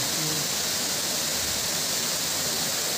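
Sarugudu waterfall pours in a steady, broadband rushing roar, constant and fairly close, with no breaks or changes in level across the whole stretch.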